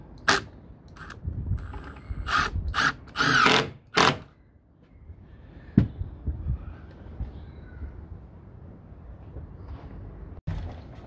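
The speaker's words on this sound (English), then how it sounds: "Screwing in the window frames." A power drill drives screws into the window frames of a wooden double-storey playhouse, with several short loud whirring bursts close by, then a single sharp knock and quieter clatter.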